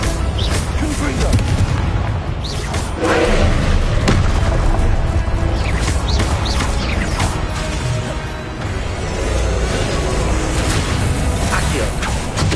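Confringo blasting spell explosions in Hogwarts Legacy, repeated booming blasts and crashes over a constant roar of combat noise, loud and close, with voices in the mix.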